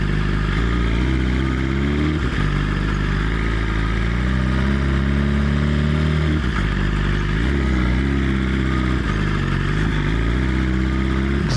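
A BMW S1000RR motorcycle engine revs hard while riding through New York City streets, a loud continuous drone with rising and falling pitch as the rider shifts, close and steady throughout.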